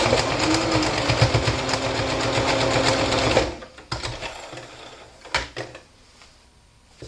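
A sewing machine stitches a cotton mask in a rapid, loud mechanical whir for about three seconds, then stops and is followed by scattered clicks and handling sounds.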